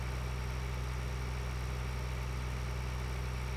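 Tractor engine idling in the Farming Simulator video game, a steady low mechanical drone with a constant hum, even and unbroken throughout, with no talk over it.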